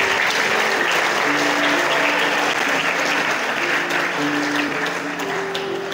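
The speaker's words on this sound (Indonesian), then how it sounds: "Tepuk tangan untuk syahidah ini." Steady, dense applause from a hall full of about 500 school students at a motivational seminar in Tangerang, loud and sustained for the whole stretch with no speech over it.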